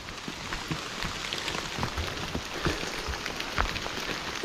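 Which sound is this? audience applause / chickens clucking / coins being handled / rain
rain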